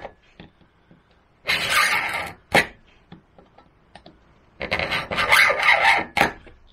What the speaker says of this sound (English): several passes of the scriber, getting progressively more firm as the scribe gets deeper